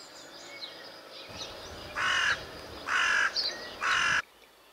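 Crows give three loud, harsh caws spaced about a second apart, close by, after a faint outdoor background with distant bird sounds.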